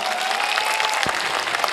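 At a poetry gathering in Agra, a crowd claps in a brief, even burst of applause, moderately loud and continuous, with a faint murmur of voices beneath.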